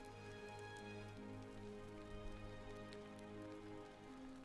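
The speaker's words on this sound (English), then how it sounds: "Unfortunately, the weather here is very rainy and a little windy, so it always has a tendency to make some odd noises." Rain falls steadily in the video game The Forgotten City, in very rainy, slightly windy weather, a constant soft patter layered beneath sustained background music.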